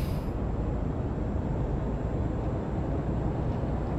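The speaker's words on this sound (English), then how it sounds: "Listen to the truck screaming out with power." An Iveco truck engine in Euro Truck Simulator 2 revs at 2000 RPM, a constant loud low drone with a dense rumble that holds steady throughout, with no talking.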